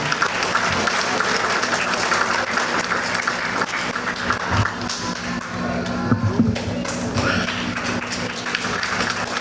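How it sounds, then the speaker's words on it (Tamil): Applause for the musicians at a Hindu temple honouring ceremony, a steady wash of clapping filling the hall from start to finish, with scattered taps and a faint murmur of the crowd underneath. "கரகோஷம்தான் கலைஞர்களுக்கு மிகவும் சிறப்பு."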